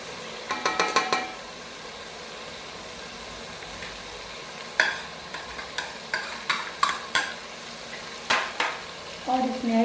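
Green chilies stirred into sizzling masala for a dhaba-style chana dal fry: bursts of scraping stir strokes rise over a steady frying sizzle, close and fairly loud, with no voices.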